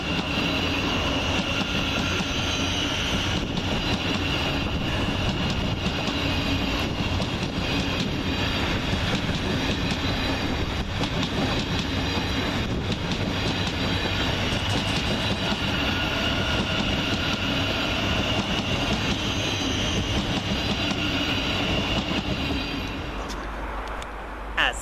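A Thameslink Class 700 electric train pulls out of Peterborough station, a loud continuous rolling rumble with clattering wheels and faint squeals that fades away at the end.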